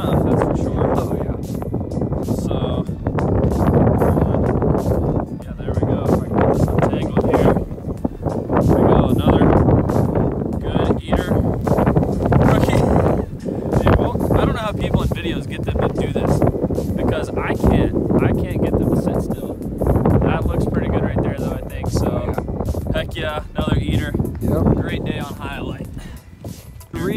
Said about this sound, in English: You can hear the tent flapping at the back. Wind blowing 30 miles an hour.